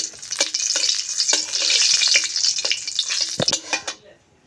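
Dried red chillies and bay leaf crackling as they hit hot oil in a village kitchen, a steady loud sizzle with stirring scrapes throughout, then quickly dying away near the end.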